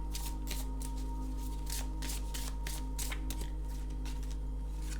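An oracle card deck is riffled and shuffled close by, a quick run of rapid papery flutters in steady bursts over a low constant hum, with no talking.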